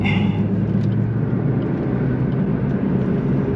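A turbocharged Suzuki Swift Sport driving on a race circuit behind a marshal car, a steady loud low engine drone and road rumble with no break, heard from inside the car.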